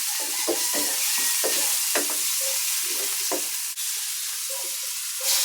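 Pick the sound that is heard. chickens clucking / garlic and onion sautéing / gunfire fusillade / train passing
garlic and onion sautéing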